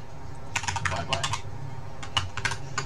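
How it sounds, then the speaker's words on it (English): Typing on a computer keyboard, two quick bursts of close, crisp key clicks separated by a short pause, over faint background hum, no speech. "I'll type bye bye"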